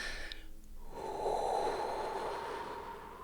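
A human voice imitates deep breathing: a long, noisy breath-like exhale that swells in volume and then slowly fades, heard alone and close over a quiet background.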